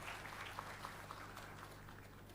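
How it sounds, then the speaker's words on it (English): Convocation audience at IIT Madras applauding staff members, a faint, distant patter of clapping with a few sharper claps standing out over a low hum. "please, a good round of applause to the staff members as well"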